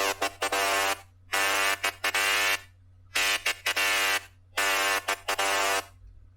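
A bright, buzzy FM synth lead with smearing plugin artifacts plays short and long honking notes in a choppy rhythm, harsh and horn-like, over a steady low hum.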